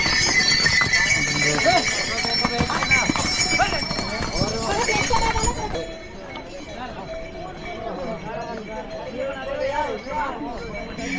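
A tall horse's hooves clip-clopping down a mountain path to Kedarnath with faint jingling, people talking over the steady plodding rhythm.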